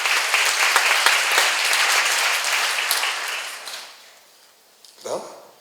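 Audience at a church seminar applauding, a dense, steady burst of clapping for about four seconds that fades out, followed by a brief murmur near the end.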